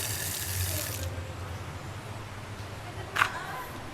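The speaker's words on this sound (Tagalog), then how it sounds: "Lakas ng tubig oh." Water gushes strongly from a faucet at a fresh-water resort, a steady rushing hiss that is loudest at first and then continues more softly, with a brief sharp knock near the end.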